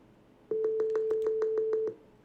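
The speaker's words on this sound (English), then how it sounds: "if you hear our sine wave was a little bit laggy" A steady pure sine test tone played through GStreamer in an Android app sounds for about a second and a half, stuttering with regular clicks roughly every fraction of a second, then cuts off.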